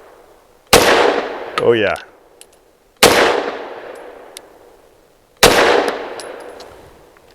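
Three loud, sharp 9mm pistol shots from a Girsan Witness 2311S fired with fun-to-shoot practice ammo, evenly spaced a couple of seconds apart, each with a short echoing tail; someone speaks briefly between the first two shots.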